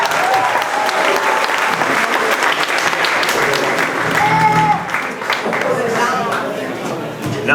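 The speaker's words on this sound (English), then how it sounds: "Give the clarinets a round of applause." A pub crowd at a high school jazz band concert applauds the clarinet section: loud, close, sustained clapping mixed with cheers and chatter, a brief whistle or whoop rising partway through before the applause thins slightly toward the end.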